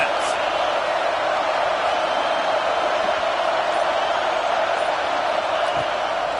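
Stadium crowd in a college football video game, Oklahoma at Clemson, a steady loud roar of cheering before a big third down, continuous and even throughout with no distinct peaks.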